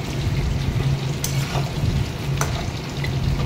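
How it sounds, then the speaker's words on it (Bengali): Kosha mutton sizzling in hot oil with onions while being stirred, a steady close frying crackle with occasional scrapes of the spoon against the pan, no talking. "কষা মাংসটা দিয়ে এবারে ভালো করে নেড়ে চেড়ে নিচ্ছি"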